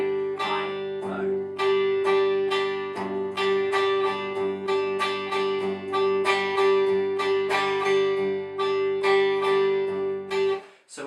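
An acoustic guitar is strummed close up in a steady pattern, one low bass-string stroke followed by three brighter strokes across the higher strings, repeating throughout before ending abruptly.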